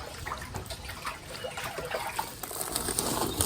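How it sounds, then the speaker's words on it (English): Dirty water drains out of an IBC wicking bed in a steady, splashy trickle, with a close, continuous watery hiss that swells slightly toward the end. "So it is dirty water coming out"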